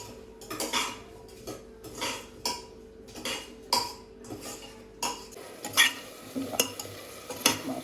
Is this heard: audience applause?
no